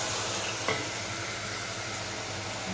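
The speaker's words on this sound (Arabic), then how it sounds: "يا حبايبي لسه بيتشوحوا معايا" Pigeon stuffing with rice, seasoned with salt, black pepper and spices, sizzles steadily in a pan, a soft continuous frying hiss with one brief stir or clink.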